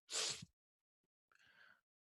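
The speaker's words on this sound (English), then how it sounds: "so you probably hear me sneezing" A single sharp sneeze bursts out close up, followed after a pause by a softer breathy exhale.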